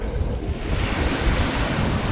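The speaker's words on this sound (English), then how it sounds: "Waves rolling in." Calm early-morning ocean waves roll onto a New England shore, a loud close continuous wash of surf with some wind rumble on the microphone.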